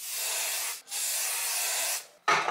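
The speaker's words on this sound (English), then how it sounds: "Let's do a little bit of melting spray up front." Melting spray hisses from a can onto the front of a balayage drawstring wig in two long, close, steady bursts with a brief pause between them. A short, louder spray-like burst follows.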